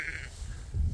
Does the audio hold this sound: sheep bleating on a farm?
yes